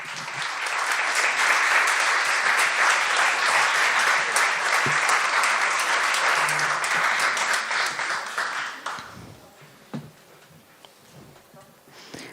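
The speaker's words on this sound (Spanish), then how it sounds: "Un aplauso." Audience applause at a formal declaration ceremony for a book of letters in Argentina, loud sustained clapping from a crowd that fades out after about nine seconds, leaving quiet room noise with a few scattered sounds.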